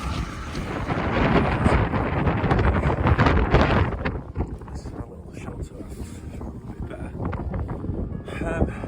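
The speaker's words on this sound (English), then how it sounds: "the wind is too much" Strong wind buffets the microphone at a wild camping spot in the Yorkshire Dales, loud roaring gusts that ease after about four seconds into lighter rustling flurries.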